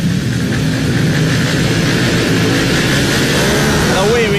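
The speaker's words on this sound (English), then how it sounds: "all the talking must stop as the revs are ready to rise." F900R Cup racing motorcycles at Snetterton rev up together on the grid at the start of a race, making a loud, steady, dense engine roar that fills the whole clip without letting up.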